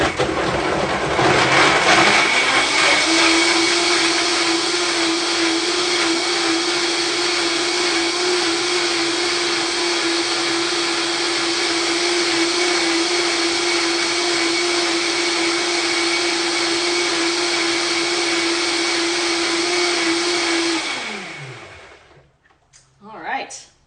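A countertop blender purees a creamy raw lime and ginger dressing made with cruciferous vegetables. The motor whirs up, holds a steady, loud, high-pitched roar for about twenty seconds, then winds down and stops.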